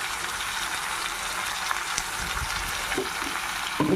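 Eggplant pieces for an Andhra curry fry in a pan with a steady, even sizzle throughout. A few soft knocks of stirring come near the end.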